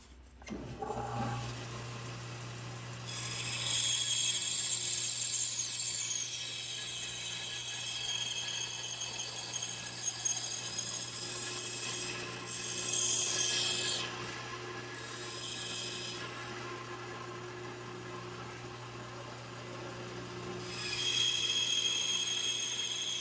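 A bandsaw cuts wood to shape a wooden snake: a steady low motor hum runs throughout, with the blade's rasping cut rising and falling in long bursts as the wood is fed.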